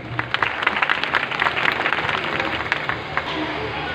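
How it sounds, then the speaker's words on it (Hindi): Loud applause from a church congregation: dense, fast clapping fills the room steadily for a few seconds, with some voices mixed in. "ज़ोरदार ताली यीशु मसीह।"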